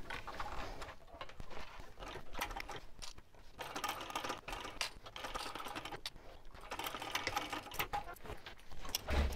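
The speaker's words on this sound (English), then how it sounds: "Top stitching. We'll stitch it at an eighth of an inch." A sewing machine runs steadily, top stitching a clutch bag an eighth of an inch from the edge at a 3.5 stitch length, its rapid mechanical chatter close and continuous with brief dips, no voices.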